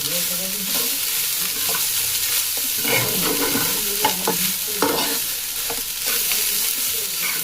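Loud, continuous sizzling of shrimp frying in a pan, a dense crackle broken by occasional stirring scrapes, close up with no talking.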